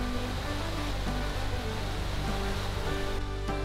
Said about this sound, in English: As you cross the bridge, you can see and hear the beautiful Kisa Creek below.